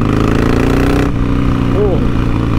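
Harley Davidson Sportster motorcycle exhaust while riding, a loud steady engine rumble with a deep throbbing beat filling the whole stretch, a brief rising tone near the end.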